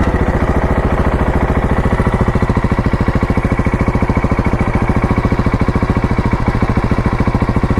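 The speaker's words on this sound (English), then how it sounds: "That's the wings exhaust. I just love it." A 2020 Husqvarna 701 motorcycle fitted with a Wings exhaust runs at a steady idle close by, a loud, rapid, evenly pulsing single-cylinder thump that holds constant for about eight seconds with no talking.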